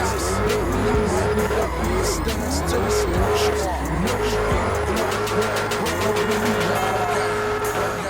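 A video game 2021 Dodge Challenger SRT Hellcat Redeye engine revs hard while tires squeal in long sliding screeches, loud and continuous, the engine pitch rising and falling through the drift.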